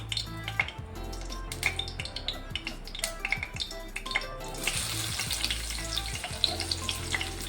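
Sliced onion frying in oil in a pan for a paneer capsicum gravy, a steady close sizzle with scattered crackles and pops that grows brighter and denser halfway through, with no talk.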